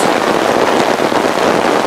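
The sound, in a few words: rain falling in forest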